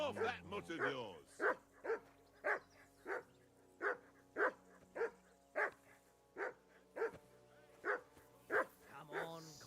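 In a video game, a dog keeps barking in an even rhythm, roughly two barks per second, close and clear, with speech at the opening.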